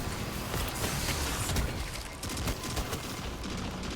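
Turrets in the Destiny 2 video game fire a dense, continuous barrage of rapid gunshots, loud and close, with crackling bursts layered over a rumbling low end throughout.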